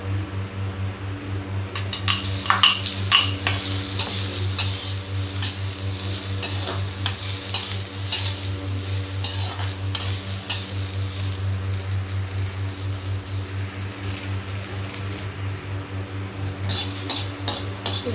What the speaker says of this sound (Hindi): इसके बाद में पहले ये प्याज फ्राई करती हूँ।